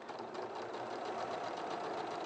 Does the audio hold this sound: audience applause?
no